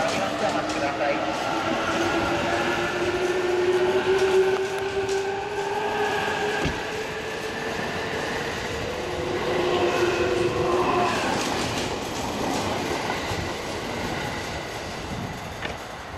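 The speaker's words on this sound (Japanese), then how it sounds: "列車が発車しております。" A JR Joban Line Tokiwa limited express train departs Kairakuen station with a steady, loud rumble and rising motor whine as it pulls away. A platform announcement plays over it.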